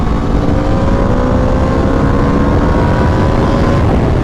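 Loud, steady engine drone from a 2026 Aprilia RSV4 Factory 1100 sport motorcycle, a low humming tone droning evenly throughout without revving peaks, as if coasting under engine braking.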